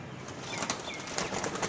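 Fancy-breed pigeons beat their wings in flight at a loft in Chunian, a soft, steady run of flutters at moderate distance with several sharper wing claps.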